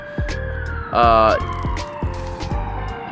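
A wailing emergency siren sweeps up and down at a distance, mixed with a sharp warbling burst and scattered rhythmic thumps.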